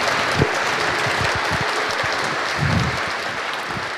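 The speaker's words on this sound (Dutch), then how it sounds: "Warm applaus." Warm audience applause after a lecture in Gouda fills the room as a steady wash of clapping, with a few louder individual claps standing out.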